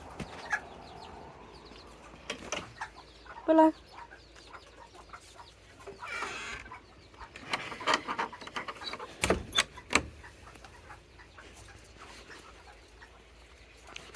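Chickens clucking near a chicken shed in an English garden, a few scattered soft clucks and a louder burst midway among rustling and faint outdoor background, with a single spoken word and some dog-like panting.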